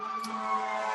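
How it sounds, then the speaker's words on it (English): A city siren sounds outside, a steady, fairly faint wailing tone held for a brief moment with no talk over it. "There's a siren behind me, I apologize."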